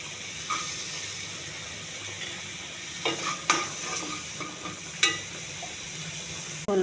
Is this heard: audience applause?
no